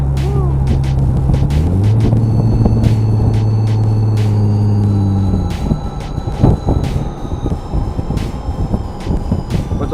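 A car with an upgraded exhaust revs up loudly with a deep, raspy exhaust note, climbing in pitch as it accelerates, then settling into a rough rumble.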